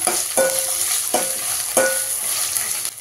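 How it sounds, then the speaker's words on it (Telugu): Ginger garlic paste fries in a pan with a constant sizzle. Spoon strokes cut through it as a few distinct scrapes, roughly every half second or so, heard close up with no talking. "అల్లం వెల్లిగడ్డ పేస్ట్ పచ్చి వాసన పోయేదాకా కొంచెం కలుపుకొని"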